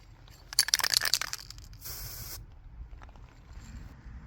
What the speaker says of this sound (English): So I spray painted the shock absorber.